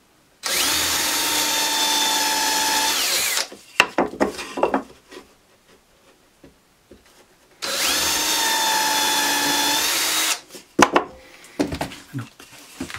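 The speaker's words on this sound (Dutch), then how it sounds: "gaatjes erin boren voor de schroeven" A power drill whines loudly for about three seconds boring screw holes in wood, followed by clattering and handling noises, then a second equally long drilling burst and more clatter.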